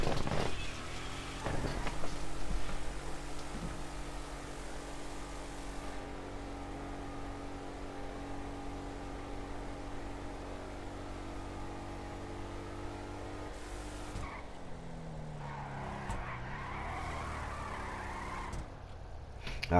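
Declasse Vamos drag car in GTA 5 racing down a drag strip, a steady loud engine drone holding speed for many seconds, then dropping off into tire skidding and squealing near the end.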